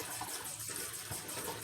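Water is poured into a bowl for an egg substitute, a faint steady trickle heard up close and alone, with no talking.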